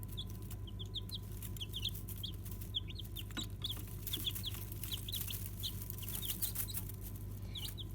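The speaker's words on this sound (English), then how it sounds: "These chicks are from a breed called Barred Rock." Young Barred Rock chicks peep in a steady stream of high, short cheeps over a constant low hum, moderately near and fairly soft.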